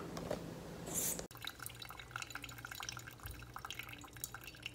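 A Ninja coffee maker brewing a cappuccino gives off quiet, irregular drips and trickles in a calm room, preceded by a soft rustle and a brief thump.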